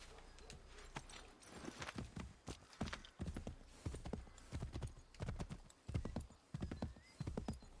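A horse in Assassin's Creed III gallops with steady, loud clip-clop hoofbeats in a regular rhythm across the whole stretch, heard clearly and close with no talking over it.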